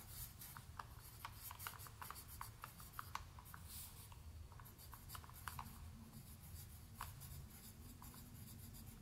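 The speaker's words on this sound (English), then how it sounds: "My notebook here, and I'll write them down into that." A pen writes measurements into a notebook during a lederhosen fitting, giving a steady, close, soft scratching with short repeated strokes for about nine seconds and no talking.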